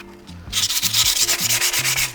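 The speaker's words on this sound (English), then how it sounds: "if I'm sanding by hand, which is what I'm doing right now." Hand sanding a Volvo 340 engine valve cover scrapes back and forth in quick, even strokes, a rhythmic rasping sound close by with no voices.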